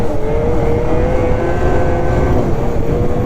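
A 2027 XRS 600RR snowmobile engine holds a steady, loud drone with a wavering pitch as it works back up toward its RPM, close by and continuous with no talking.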